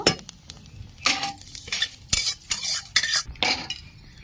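Lightly reddened fried vermicelli is scraped and tipped out of a pan, with a string of close metallic scrapes, clinks and rustles in uneven bursts.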